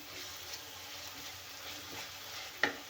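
Onions fry with salt in a clay pot for egg curry, a faint steady sizzle with a soft stirring scrape and one sharp tap near the end.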